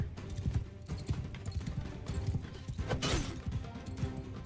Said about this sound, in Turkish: Atı üstüne sürdürtme ya.